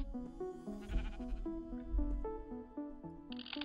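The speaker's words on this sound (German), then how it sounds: "Wir haben hier noch Schafe." Sheep bleat in Minecraft over a backdrop of melodic game music, with short, moderately loud calls breaking through the tune.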